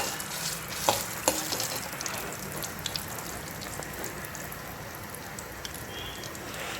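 A piece of ginger sautés in a pan with a constant crackling sizzle, punctuated early by a couple of sharp spoon knocks and light stirring, no talking.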